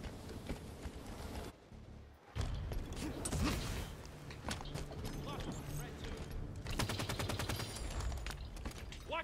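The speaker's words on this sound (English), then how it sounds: "I'm getting shot from somewhere" Rapid automatic gunfire and bursts of shots in a Halo 5 Guardians beta multiplayer match, dense and continuous with mechanical clatter, loud throughout with a brief lull near the start and someone talking over the action.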